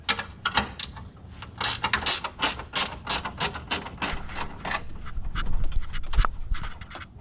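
A 13 millimeter wrench loosening a bolt on a 6.2 Silverado during a cold air intake install, a rapid run of ratcheting clicks and metallic clatter, close and fairly loud, without talk.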